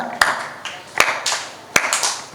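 A preacher demonstrates hand clapping with a few sharp, separate claps close to the microphone, spaced under his ongoing talk.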